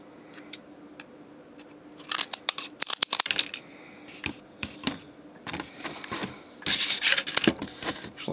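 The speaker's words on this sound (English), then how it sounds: "we'll cut one more off at that size and cut it in half" Small pieces for a toy machine gun are being cut to size: clustered snipping and clicking cuts come in quick bursts with pauses between, close and crisp in a quiet room.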